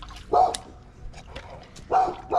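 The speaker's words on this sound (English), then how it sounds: "Hey, you being a good dog now?" A dog barks nearby outdoors beside a creek, giving three sharp woofs: one early and two close together near the end, with quiet rustling between them.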